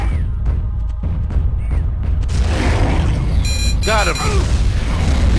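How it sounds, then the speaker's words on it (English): Grenade launcher blasts in Turok 2: Seeds of Evil, heard as continuous loud booming and rumbling with electronic beeps and chirps layered on top, while a voice speaks briefly over the din. "these grenade launchers are too strong"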